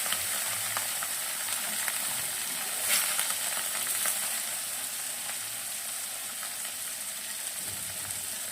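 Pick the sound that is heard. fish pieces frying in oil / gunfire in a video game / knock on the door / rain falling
fish pieces frying in oil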